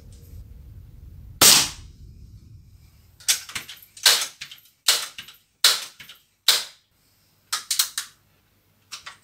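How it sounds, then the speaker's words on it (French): A series of sharp rifle shots is fired from a rest during a sight adjustment at a range. About ten short, loud cracks come at irregular intervals over near silence, with no talking. "Donc là je tire avec appui, hein. Je suis dans une phase de réglage."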